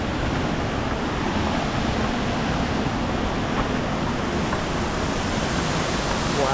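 A waterfall pours into a creek in Bali as a dense, steady roar of rushing water, close and continuous, with no other sounds standing out.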